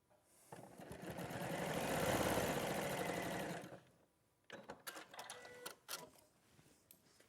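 A sewing machine stitches along a diagonal line on fabric in one continuous burst of rapid mechanical whirring for about three seconds, followed by quieter handling clicks and taps.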